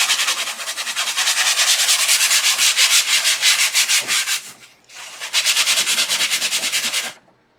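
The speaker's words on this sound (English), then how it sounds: "we just have this sanding block from Harbor Freight, and we're going to use this to get the glitter off" A Harbor Freight sanding block scrubs glitter off a wooden sign, a loud, steady rhythmic rasp of rapid back-and-forth strokes, pausing briefly once before resuming and then stopping.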